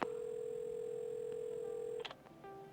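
A steady telephone dial tone from a video game phone hums continuously for about two seconds, then cuts off into a few short clicks and a brief quieter tone.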